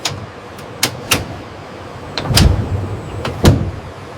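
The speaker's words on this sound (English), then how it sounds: "Doors are tested again and again." Train doors being repeatedly tested in a factory, with a series of sharp clunks and thuds at irregular intervals, two heavier slams standing out, and no talking.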